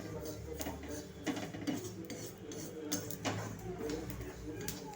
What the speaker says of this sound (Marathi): सतत हलवत राहणे तर तुमचे कारळे करपून जातील